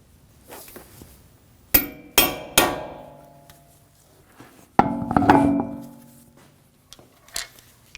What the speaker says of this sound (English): Use a hammer and a chisel to peen the nut so it doesn't back off.